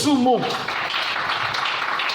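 A church congregation applauds and cheers, and a brief raised voice gives way to a dense, sustained wash of clapping that fills the room for about two seconds.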